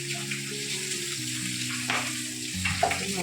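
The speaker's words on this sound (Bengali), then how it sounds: "তখন মাছ ভাজছে" Fish (koi and rohu) frying in a pan in a home kitchen, a continuous hissing sizzle with a steady low hum underneath and a few brief clinks, no voices.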